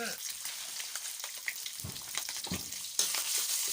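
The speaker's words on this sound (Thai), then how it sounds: "นี่เราจะผัดพริกแกงให้หอมฉุยแบบนี้เลยนะคะ" Curry paste and pork belly stir-fried in a pan for a Thai spicy long-bean dish, giving a steady close sizzle with scattered stirring scrapes and a louder burst of frying near the end.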